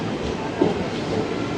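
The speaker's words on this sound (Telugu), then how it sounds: "Srikakulam railway station." A train rumbles through Srikakulam railway station, a steady rolling clatter of rail cars with faint background voices.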